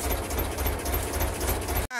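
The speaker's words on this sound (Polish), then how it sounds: "Wesoły ciągnik jedzie, co?" An old tractor engine chugs loud and close with a steady low knocking rhythm during a tractor ride, cutting out briefly near the end.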